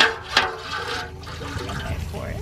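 Water runs from a hose into a pot on a farm, a rushing, splashing fill that is loud at the start and then settles into a steady pour, with a voice nearby.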